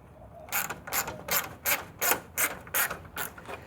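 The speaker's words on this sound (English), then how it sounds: "We've got these 4 bolts out of the top of the grill" Ratchet wrench loosening the top grille bolts on a Ford Ranger: about eight quick, evenly spaced bursts of close, crisp clicking, each roughly half a second apart, with no voices.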